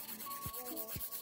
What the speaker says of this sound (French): je vais passer un petit coup de lime rapide